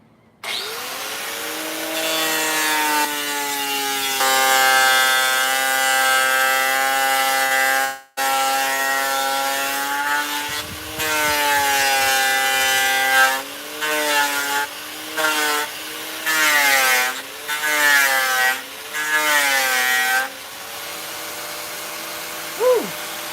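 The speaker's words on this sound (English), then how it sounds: "sandpaper disc, and it's pretty stiff. It's for the grinder." An angle grinder fitted with a stiff sandpaper disc sands a concrete mold, producing a loud, sustained high whine. Partway through it briefly cuts out, then returns with wavering pitch and choppy bursts as the disc bites and lifts.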